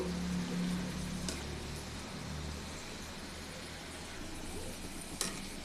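Onion pakoda frying in hot oil gives a steady, broad sizzle throughout, with a low hum underneath and a couple of faint ladle clinks.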